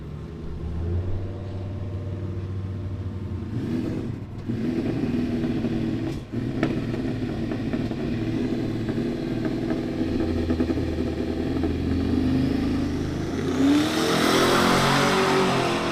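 A Chevrolet Silverado with a turbocharged LS engine accelerates at a street racing event, a distant rumble building into a rising rev that swells louder near the end as it comes closer.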